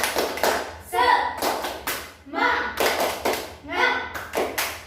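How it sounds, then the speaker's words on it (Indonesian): A group of children clap a rhythmic spirit cheer in bursts of quick patterned claps mixed with chanted voices, close and lively, in a classroom storytelling session. "kita tepuk semangat dulu yuk"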